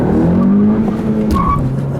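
A tuned 2018 Honda Civic Si Coupe accelerating, its engine note rising in a strong, steady drone heard close up, then easing to a lower tone near the end.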